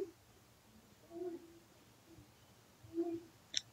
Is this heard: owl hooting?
yes